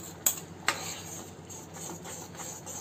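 A utensil knocks twice sharply against a pan as mint-cumin paste is added to simmering mango panna, followed by soft, faint stirring and scraping.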